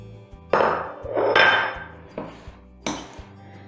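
Butter being chopped into flour in a bowl for chocolate heart biscuits, heard as four separate knocking, scraping cuts at an uneven pace, close and moderately loud.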